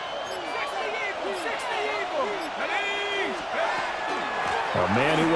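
In the Madden NFL 26 football video game, a home stadium crowd keeps up a dense, steady roar of cheering and murmur in the background while a commentator talks over it.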